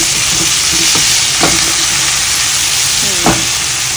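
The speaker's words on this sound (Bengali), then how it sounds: "আর এদিকে হলো মাংস ভাজি হচ্ছে, অলমোস্ট মাংস ভাজি হয়ে গেছে।" Meat fries loudly in a pan, a dense hissing sizzle throughout with a few sharp scrapes from stirring, close and continuous with no talk.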